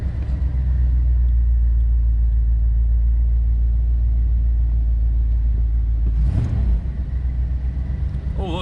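A 1993 Chevrolet Caprice wagon idles with a steady, low engine rumble close by, and a brief louder swell comes near the end.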